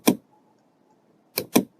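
Three crisp computer keyboard key presses, one and then a quick pair about a second and a half later, close and isolated against near silence during UV printer software work.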